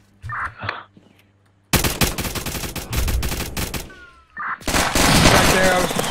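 Rapid automatic gunfire from a first-person shooter game, bursts of dense repeated shots loud and close, with a short pause between volleys and a brief voice at the start.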